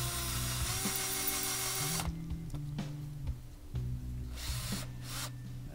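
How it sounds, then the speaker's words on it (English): A power drill driving screws into a wall to fix a lath for plastering, a loud close whine running for two seconds, then shorter bursts and stops with faint ratcheting clicks between them. "Proceed the same way at the bottom hole."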